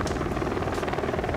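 Helicopter in the video game Rainbow Six Siege, a steady rapid rotor thump with broadband whine, continuous and fairly loud overhead throughout.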